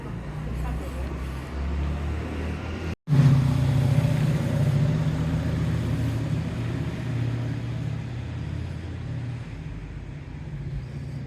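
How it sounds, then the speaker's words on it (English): Several cars, a Mustang among them, pass one after another through a narrow town street, forming a continuous close engine rumble and tyre roar with a brief dropout near the start. "About 8 cars went past"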